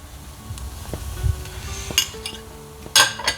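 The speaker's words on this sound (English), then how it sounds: "And we're gonna stir it some more so that it takes some flavor to it." Meat with cinnamon, cloves and allspice stirred in a cooking pot for vegan makloubeh, light clinks and scrapes of a utensil against metal over a soft sizzle, ending in a louder clank.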